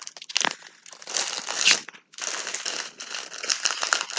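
Crinkly plastic packaging from an AliExpress diamond painting order being unwrapped and torn open, with steady close crackling and rustling broken by one brief pause, no talking.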